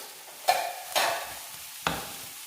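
Shredded cabbage and carrot are tossed into a hot pan for a chicken sandwich filling, giving three short stirring scrapes with brief sizzling bursts, close and fairly quiet, with no voices.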